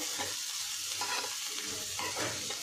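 Chutney with green onion greens fries in a pan, a close, steady sizzle with soft scraping as it is stirred, no talk.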